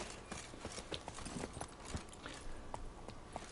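Horse hooves in The Witcher 3 on PS5, a faint, steady clip-clop of galloping under low in-game ambience, no voices.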